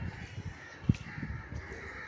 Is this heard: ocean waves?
no